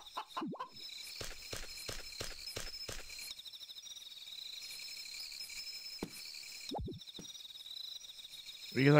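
Chickens cluck in the farming game Harvest Moon: Magical Melody, a quick series of short rhythmic clucks near the start, later isolated calls, over a quiet steady ambient game background.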